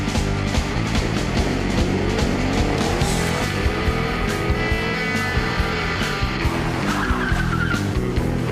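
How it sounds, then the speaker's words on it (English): A car engine revs hard and continuously, close and loud, with tire squeal and skidding noises layered over the rising and falling engine pitch; no one speaks. "Run up your engine!"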